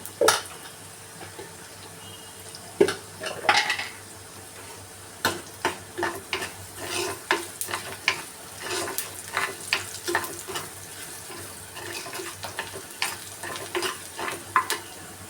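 A dal tadka with red chilli powder fries in a pan, with steady sizzling crackle and frequent scraping stirs and spoon clinks in an irregular rhythm, close and clear without talk.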